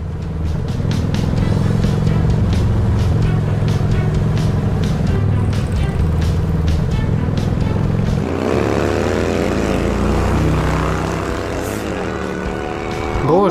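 A vehicle's engine roars loudly and steadily nearby before its pitch sweeps as it surges past on a dusty road, with no talk.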